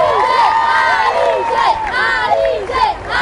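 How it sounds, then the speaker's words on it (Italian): Crowd at the Festa dei Gigli street festival in Nola cheering and shouting loudly, with rising and falling voices and whistle-like calls, sustained and close, clapping mixed underneath. "Un applauso al grande maestro Pino Perez"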